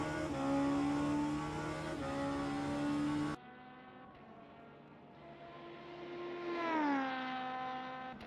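Race cars at Sebring, LMP2 prototypes among them, roar past one after another with sustained engine drone and pitch sweeps as they accelerate, loud and close at first, then a second car rising and fading.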